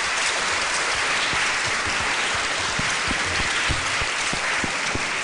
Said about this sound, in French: Nous demandons d'applaudir comme il se doit monsieur Kopieters pour son témoignage.